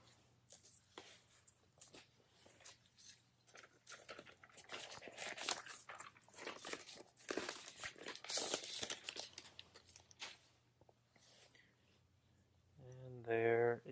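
Protective plastic film crinkles and tears as it is peeled off a new iPad Pro 12.9-inch third-generation tablet during an unboxing, a run of close, dry rustling bursts, with brief talk at the very end.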